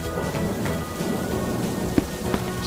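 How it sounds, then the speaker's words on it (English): Rain and thunder from a cartoon, an even wash of falling rain with low distant rumbling and a few sharper drip-like ticks, quiet and unbroken, no speech. "She and George run outside to play in the rain."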